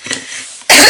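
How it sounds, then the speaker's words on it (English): A single sharp cough from a person with a lingering cold after a cold or flu bursts out loud and close at the end, after a brief quiet, breathy lead-in. "I've still got this horrible cough after the cold that I had"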